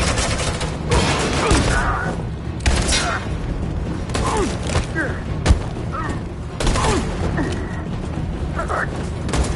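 Gunfire and booming explosions from a firefight in Detroit: Become Human, with dense crashing impacts and thuds over a loud, continuous din and shouted voices.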